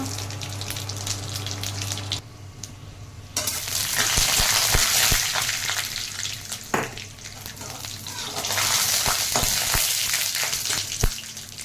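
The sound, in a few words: bay leaf, peanuts and dried chillies frying in oil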